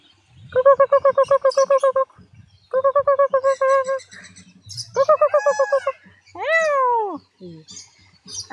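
A caged bird at a zoo aviary gives repeated rapid chirping trills in bursts, followed by a rising whistled call, close and clear with no talk over it.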